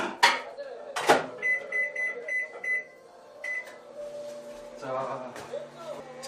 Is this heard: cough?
no